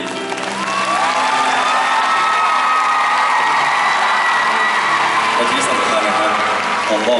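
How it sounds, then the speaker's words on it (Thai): A concert arena crowd at the DMD Land 2 show at IMPACT Arena applauds and cheers the performers, with clapping, whoops and shouts running throughout and a voice over a microphone or amplified tones layered on top. "ขอเสียงปรบมือให้ดูดี"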